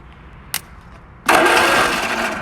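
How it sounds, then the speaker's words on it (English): A 1964 Vauxhall HA Viva engine, dormant for 19 years, spins over on its starter via a jump lead: after a short click, a loud, steady cranking churn starts abruptly and runs continuously, close by, without catching. "He's now going to run a live down to the starter and see if it will spin over"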